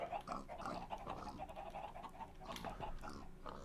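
Pigs grunting and oinking in a penned breeding enclosure in a Minecraft Mekanism modpack, several snorts overlapping in a steady, fairly close stream with no voices.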